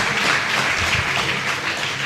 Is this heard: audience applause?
yes